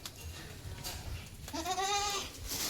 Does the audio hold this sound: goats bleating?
yes